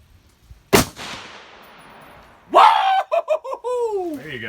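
A single sharp, loud 6.5 Creedmoor AR rifle shot cracks outdoors and decays into a brief tail, followed by people laughing and exclaiming.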